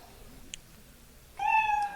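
A single cat meow rises clearly near the end after a faint background, close and loud, with a brief small click earlier in the otherwise quiet room.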